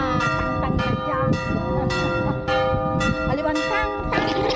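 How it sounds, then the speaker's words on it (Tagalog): Church bells in San Fabian, Pangasinan ring in repeated metallic strikes with long shimmering overtones, ringing out over steady outdoor background noise. "Iba yung tunog ng kampana nila."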